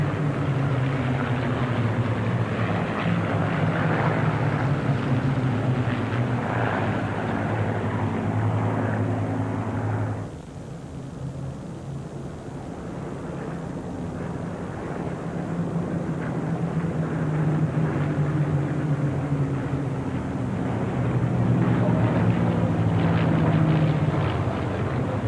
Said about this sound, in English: Most distinctive colour scheme nearest the camera from the Royal Netherlands Air Force, flown by Major General Berry Mako